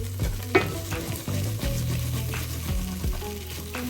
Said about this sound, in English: Now we're going to deglaze with 1/4 cup of white wine and scrape any of those brown bits up.